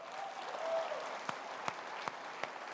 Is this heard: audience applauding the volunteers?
yes